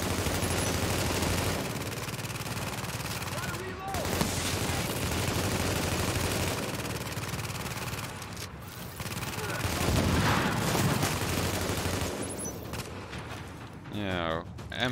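A deployed turret firing in The Division, steady rattling bursts of automatic gunfire with mechanical clanks, fairly loud amid game combat noise, with someone talking over parts of it.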